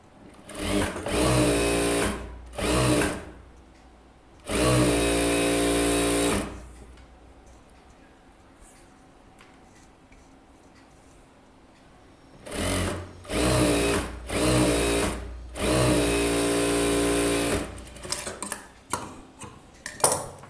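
Sewing machine stitching the sleeve of a blouse, loud whirring runs in short bursts and longer stretches, separated by a quiet pause of several seconds.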